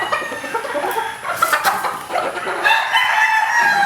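A gamecock rooster kept for breeding and fighting crows loudly up close, with clucking hens and other birds around it in a farm yard.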